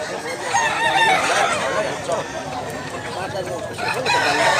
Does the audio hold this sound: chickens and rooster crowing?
yes